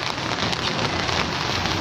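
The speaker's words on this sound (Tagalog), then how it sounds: "Kung tuloy-tuloy pa rin po ang ulan guys." Steady rain falling on potted cactus plants outdoors, a dense, loud, even patter of drops with no pauses.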